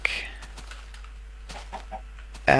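Chickens in the video game Minecraft cluck in short scattered bursts at low to moderate level, with a louder cluck right at the end.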